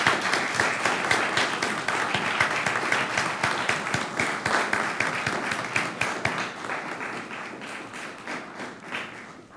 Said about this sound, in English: an enthusiastic round of applause and appreciation for all